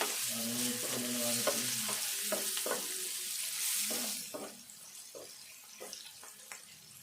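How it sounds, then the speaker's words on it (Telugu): Potatoes frying with turmeric in a pan for aloo fry, a steady close sizzle with a few stirring scrapes and clinks. The sizzle fades partway through, leaving sparse clatter, with no talk. "పసుపు వేసుకుందాము ఇట్లా మంచిగా దగ్గర ఫ్రై చేసుకోవాలి"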